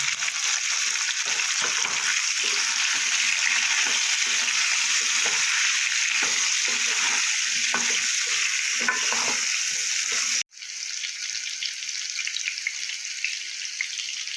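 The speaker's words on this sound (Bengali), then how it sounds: "একটু লবণ দিয়ে দেবো হলুদ দিয়ে আলুটা আমি ভেজে নেব" Potatoes fry in hot oil with salt and turmeric, giving a loud, steady sizzle with faint stirring that runs throughout, briefly cut off near the end before the frying noise resumes.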